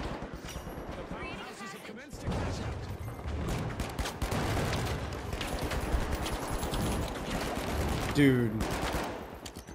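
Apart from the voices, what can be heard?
AK rifle gunfire in the video game The Finals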